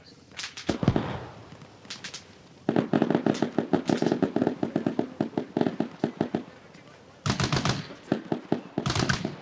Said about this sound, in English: We got bullets flying right over my head.